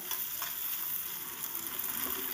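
Sliced spring onions sizzle steadily in a hot pan for a fish chorchori, with faint scraping as they are stirred; a continuous close frying hiss without talk.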